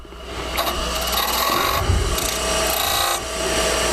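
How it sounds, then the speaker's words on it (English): A homemade skew cuts V-cuts into a wooden bead turning on a lathe. The work makes a close, continuous scraping hiss that swells and eases in short strokes, with no talking. "I go back to my little homemade skew here, cut my V-cuts"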